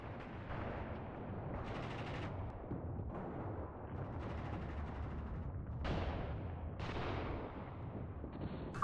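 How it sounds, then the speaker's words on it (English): Rumbling blasts and battlefield fire in the Mius Front WW2 game, a steady low roar broken by several heavy booms, some of them distant, with a sharper burst near the end. "Something exploded around here."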